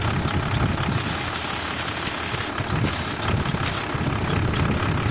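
A loud, continuous high-pitched pulley squeal from a Mercedes Sprinter 2500 3.0L engine running steadily under the hood, with a dense engine rumble underneath and brief dips in the squeal where brake cleaner is sprayed on.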